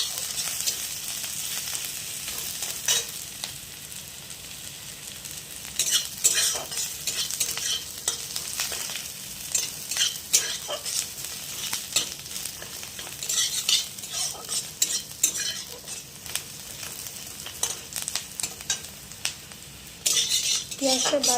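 Onion and garlic with a green chili sizzle in hot oil in a wok while a utensil stirs and scrapes through them, giving a steady crackling fry broken by frequent metallic scraping strokes.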